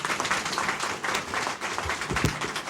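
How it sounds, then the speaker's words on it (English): Audience at a county fire chief forum applauding, a moderate burst of clapping that stays fairly steady through the short stretch. "Go ahead and give them a round of applause."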